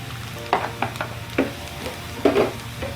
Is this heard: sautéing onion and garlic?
yes